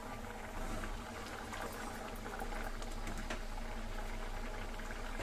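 Bangda mackerel curry with kokum and triphala simmering on low gas, a faint, steady bubbling and soft liquid hiss, continuous and close, with no talking.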